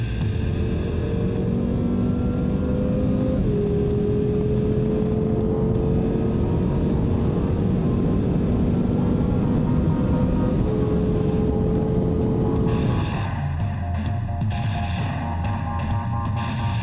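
A BMW M6 Gran Coupé cruising at high speed on a motorway gives a steady, loud engine drone layered with road and wind roar, and the tone shifts abruptly near the end. No one speaks.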